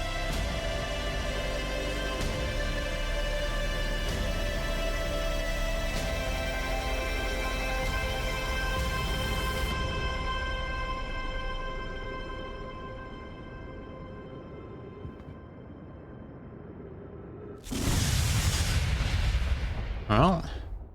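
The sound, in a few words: explosion from the video game Outer Wilds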